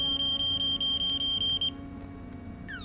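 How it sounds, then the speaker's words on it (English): A Hikvision AX Hybrid PRO alarm system sounding after being triggered: loud, rapid, evenly pulsed electronic beeps that stop abruptly partway through, followed by quieter background hum. "start to have a trigger alarm over here"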